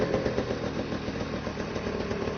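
A snowmobile engine running rough on one cylinder, giving a steady uneven putter with a clattery, lumpy idle and no voices.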